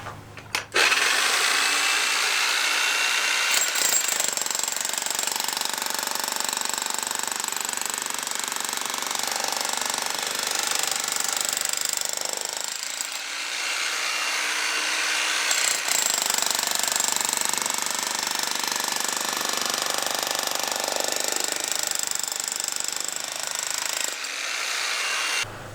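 A power spike hammers into rock during a stone barn renovation in Portugal, a loud, close, continuous rattling chatter that runs in long bursts with brief pauses between them.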